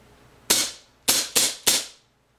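Four sharp pops from a Walther PPK CO2 air pistol, one alone and then three in quicker succession, each loud and close with a short decaying tail and no talking.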